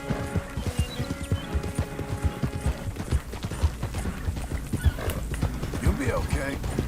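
Horse hooves clip-clop steadily in Red Dead Redemption II, a close, rhythmic walking beat that runs throughout with voices talking over it.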